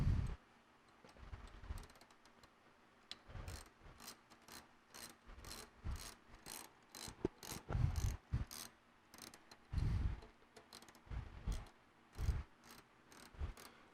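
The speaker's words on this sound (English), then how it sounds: "the retention bolts should thread off very" Retention bolts being unthreaded from a shaft end clamp, a run of small quiet ratcheting clicks in regular bursts with soft thuds between, close and faint.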